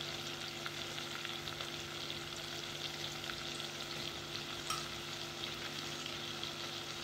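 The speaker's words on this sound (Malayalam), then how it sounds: "ഇനി നമുക്ക് നമ്മൾ അരച്ച് വെച്ചേക്കുന്ന അരപ്പ് ഇതിലേക്ക് ഇട്ട് കൊടുക്കാം." Ground coconut paste hits hot oil with drumstick pieces and shallots for a Kerala theeyal, giving a steady, close sizzle and crackle of frying that holds at an even level throughout, with no voices.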